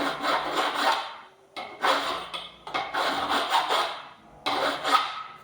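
Hand filing or sanding along a weld seam on a 1949-54 Chevy steering column, a run of rough rasping strokes in bursts with short pauses, close and moderately loud, no talking.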